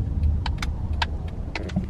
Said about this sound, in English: we had to do a haul in the car again while we're driving